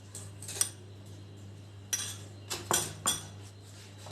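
Roasted peanuts being stirred with dabeli masala in a bowl, heard as light clinks and scrapes of a spoon against the dish, a few sharp taps spaced irregularly over a steady low background hum.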